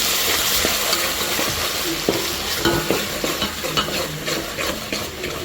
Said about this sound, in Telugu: ఇది బాగా ఫ్రై అవ్వాలి, అల్లం వెల్లుల్లి పేస్ట్ పచ్చి వాసన లేకుండా.